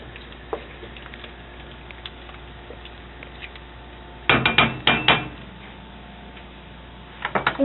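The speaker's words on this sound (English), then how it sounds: "I'm going to stir it in." A spoon stirs half a cup of Brussels sprouts into noodle soup in a pot, giving a few short clattering knocks in a quick cluster midway and another brief clack near the end, over a quiet background.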